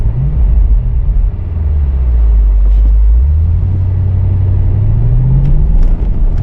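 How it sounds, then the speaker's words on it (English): A 2024 Bentley Continental GTC Edition 8 cruising on pavement, its engine giving a loud, steady low rumble that dips and rises as it rolls over a bump, with faint road noise and no talking. "we'll hit this bump in the pavement, see how the suspension travel goes"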